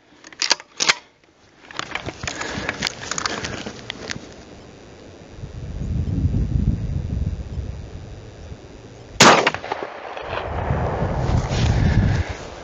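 Three sharp, loud shotgun reports as slugs are fired through a Paradox choke attachment outdoors: two close together at the start, then a third several seconds later, with wind rumbling on the microphone between them.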